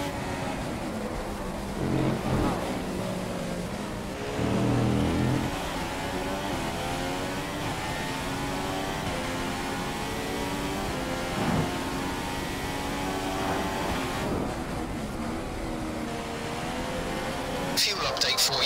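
Race cars in the F1 2015 video game drone and whine steadily as engines rev and shift through gears, with other cars passing nearby; a voice speaks over the engine noise at times.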